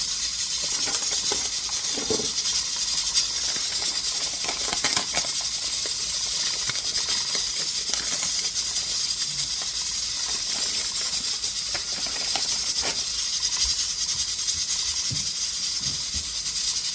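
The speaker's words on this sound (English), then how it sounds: "the water is boiling for the pasta" Water boiling in a pot gives off a steady, even hiss for the whole stretch, broken by a few faint bubbling pops, with no voices.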